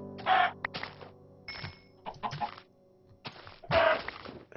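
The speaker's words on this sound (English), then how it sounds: "There's another chicken." Chickens in the Minecraft video game cluck in several short, clear bursts separated by brief pauses, with no talking over them.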